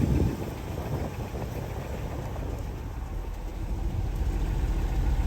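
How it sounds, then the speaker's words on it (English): A 1967 Lincoln's engine idles heard from the rear at the exhaust after a new carburetor was fitted, a steady low rumble that continues evenly and fairly loud with no talking. "it actually sounds a lot better at the exhaust than it did with the old carburetor"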